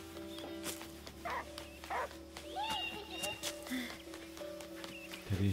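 A dog barks a few times in the video game Last Day of June, short woofs set against soft game ambience and music while someone talks quietly over it.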